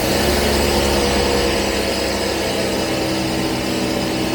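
A Jaguar V12 engine, misfiring and running on only some cylinders, idles on choke with a steady, dense mechanical drone throughout, fairly loud and close with no voices.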